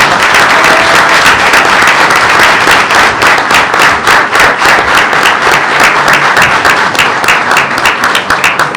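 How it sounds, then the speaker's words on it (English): A room at a board meeting fills with dense, loud clapping that holds steady for several seconds before it begins to thin out near the end. "Let's give her a round of applause."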